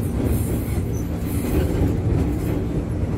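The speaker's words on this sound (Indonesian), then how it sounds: "Kereta akan masuk di jalur 1 dan pintu yang akan dibuka pintu kiri dan kanan." A commuter train rolls into Manggarai station with a loud, continuous rumble of wheels on rails, high squealing from the wheels and rhythmic clatter, heard from close by.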